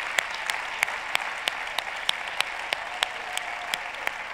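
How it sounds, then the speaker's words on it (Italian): A small audience at a talk claps in a loose, fairly regular rhythm, with sharp individual claps standing out from a softer steady patter, moderate in volume. "fatevi un applauso."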